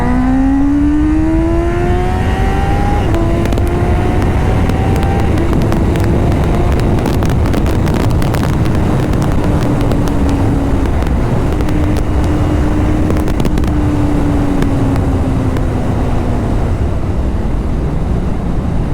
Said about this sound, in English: The exhaust screams, man. So nice to hear.